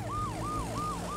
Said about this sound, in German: Wir brauchen einen Krankenwagen.